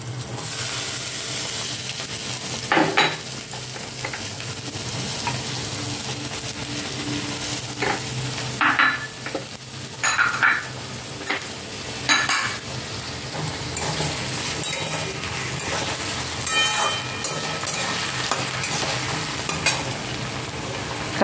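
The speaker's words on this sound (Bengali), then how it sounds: "এবার কাঁচা লঙ্কা আর টমেটোটা দিয়ে দিচ্ছি।" Green chillies and tomato dropped into frying ginger, garlic and onion, giving a loud continuous sizzle with bursts of stirring and spatula scrapes against the pan throughout.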